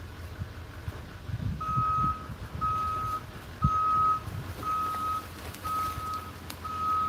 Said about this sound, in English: The trucks are starting to come back here now.